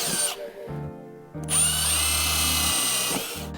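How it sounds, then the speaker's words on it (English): Power drill boring pilot holes for screws in a van roof during a solar panel install, with several short high-pitched whirring bursts broken by brief pauses, loud and close, with no talk. "I'm gonna pre-drill these holes first, just to make that a little bit easier for my screws to go in."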